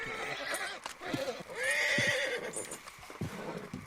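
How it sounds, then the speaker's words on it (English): Spooked horses in a video game whinny and neigh loudly, one long rising-falling call in the middle, with clip-clop hoof sounds and shuffling around it. "These horses are crazy spooky today."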